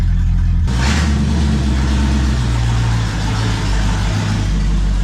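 A 1967 Ford Mustang barn find with no brakes, no spark and clutch chatter starts pulling away in first gear: a loud, close, rough engine note that rises and holds with uneven low rumbling throughout.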